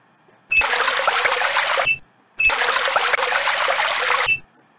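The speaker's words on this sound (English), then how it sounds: "Stop wasting water." Water runs from a tap in the video game Titanic: Adventure Out of Time, aboard a ship, in two bursts of about a second and a half each, hissing and splashing, with a short silence between them.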